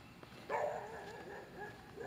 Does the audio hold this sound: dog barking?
yes